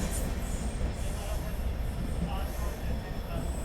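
Rajasthan Sampark Kranti Express train coming to a halt, a continuous rumbling rail noise with faint wheel squeal, steady and fairly close throughout.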